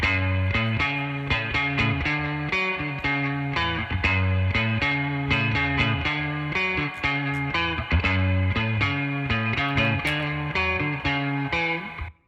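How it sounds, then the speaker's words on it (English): Distorted electric guitar part from a rock band's studio mix, soloed with extra analog drive, playing steady chugging chords with a dense, saturated tone, loud and continuous with no voices. "And this is just Dave's guitar because we didn't reamp Alex's"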